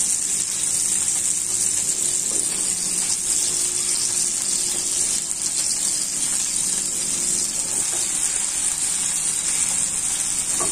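Small fish frying in hot oil in a pan, a steady, loud, unbroken sizzle that holds evenly throughout with faint clinks underneath.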